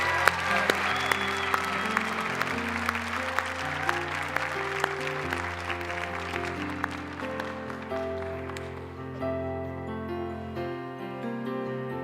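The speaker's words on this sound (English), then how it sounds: "Let's applaud these 5 recipients." Audience applause for award recipients at a nurse pinning ceremony, a steady sustained wash of clapping over about twelve seconds, with music playing underneath that continues after the clapping thins out near the end.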